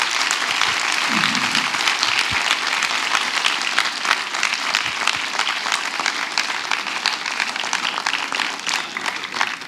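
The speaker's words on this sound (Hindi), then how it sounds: "आप तालियां बजाकर इस पूरी टीम को बधाई दीजिए।" Loud, dense audience applause after a theatre play, sustained and even throughout with a brief low thump near the start.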